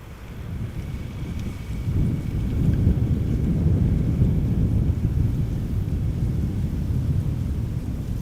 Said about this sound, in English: Our next airplane coming in is EasyJet. EasyJet arriving from Prague, A319